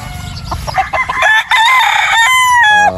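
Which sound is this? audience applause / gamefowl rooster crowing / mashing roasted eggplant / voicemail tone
gamefowl rooster crowing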